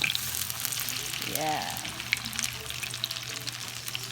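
Chayote patties sizzle and fry steadily in a hot pan, a continuous close crackle with a brief stir or flip near the middle and a short spoken word over it.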